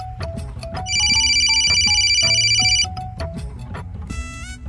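A phone rings with an incoming call, a loud sustained electronic trill lasting about two seconds, then a short higher ringtone burst near the end, while someone talks around it.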